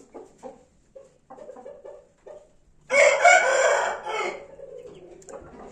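A few soft clucks, then a loud Asil (Hint) rooster crows once, close by, a long strained call that trails off into quieter clucking.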